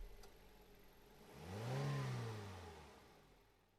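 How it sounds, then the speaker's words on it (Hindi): A car engine starts up and pulls away, a single rising rev swelling to a peak then fading over a few seconds, heard alone with no talk. "गाड़ी शुरू करके निकल गए"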